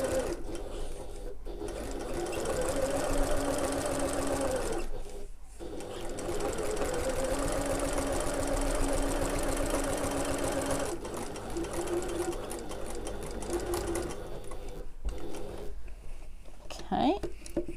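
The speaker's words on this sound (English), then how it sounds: "You don't need to back stitch at the start and the end because this is just decorative top stitch" Sewing machine top stitching a seam on a backpack, long runs of rapid, steady whirring stitches close up, separated by a few short pauses.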